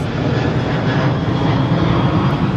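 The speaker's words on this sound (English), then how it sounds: "I hope you can, with all the noise with that plane." A loud, continuous roar of an airplane engine passes close overhead near an airport, filling the whole stretch with broad rumbling noise.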